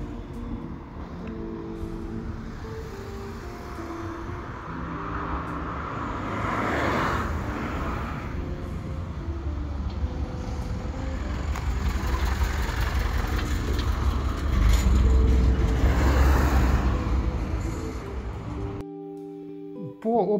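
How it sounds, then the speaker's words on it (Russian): On a Moscow city street, a car approaches and its engine and tyre noise swell steadily louder over many seconds before cutting off. A voice is faintly present. "Появляется машина."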